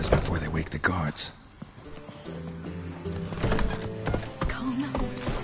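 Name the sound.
horses neighing and stamping in the video game The Witcher 3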